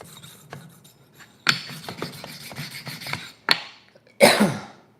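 A metal file rasps against the reed of a handmade jaw harp in short, close strokes, each a gritty scraping burst separated by brief pauses, with a few louder strokes near the end.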